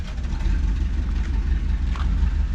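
A car engine runs with half its exhaust removed, a loud, steady low rumble with rough throaty pulses and no clear rev peaks, and no voices over it.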